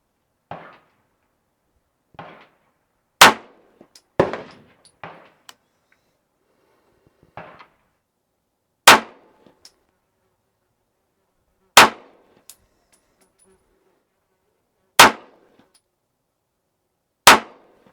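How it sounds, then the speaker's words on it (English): Six sharp pistol shots of Federal HST ammunition fired at a bullseye target, spaced irregularly over several seconds, each a loud crack with short decay, interspersed with fainter clanks and handling noises. "I'm going to start with the Federal HST simply because I'm familiar with it, not familiar with the Syntech round, shooting at the bullseye on the left"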